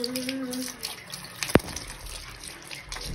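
Cold water splashes and trickles over pet parrots taking a bath, a soft running flow punctuated by one sharp splash-like knock midway.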